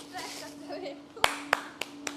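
Four sharp hand claps during a kids' dart game, spaced unevenly over the last second, following a stretch of quiet voices and room sound.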